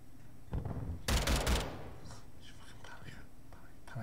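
A short burst of video game gunfire, a loud, dense crack of shots lasting about half a second, surrounded by quiet, hushed voices.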